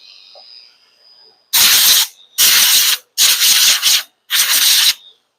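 Andis T84 A5-style clipper blades being sharpened, heard as four loud, close bursts of gritty grinding, each about half a second to a second long with short gaps, after a faint high whine.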